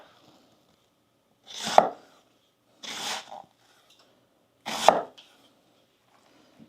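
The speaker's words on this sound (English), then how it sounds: "continue with the process of dicing the onions" Knife dicing onions on a cutting board in a home kitchen, three separate short bursts of chopping with quiet pauses between them, close and fairly soft.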